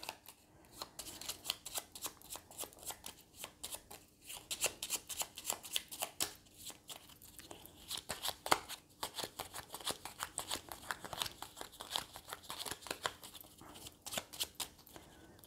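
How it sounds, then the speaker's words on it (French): A deck of cards is shuffled repeatedly at a tabletop board game of Russian Railroads, giving rapid crisp riffling bursts in a steady rhythm, close and fairly quiet, with no speech. "On remélange son paquet de cartes."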